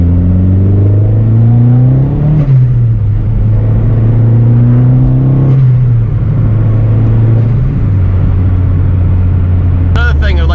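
Vauxhall Corsa B with a C20LET 2.0 16V turbo engine held at full throttle: a loud, close, continuous drone whose pitch wavers and dips slightly, with a voice talking over it.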